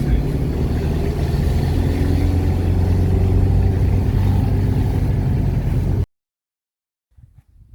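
A 1976 Volkswagen Fusca with a 1600 engine runs steadily with a low, even drone for several seconds before cutting to silence, with a faint noise at the very end.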